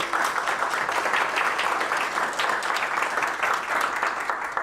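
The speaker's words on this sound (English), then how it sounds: "A round of applause for everyone." Audience applause at a breakfast for the 2025 ImpaCT Awards finalists, a steady, moderately loud round of clapping from a room of guests that continues evenly for several seconds.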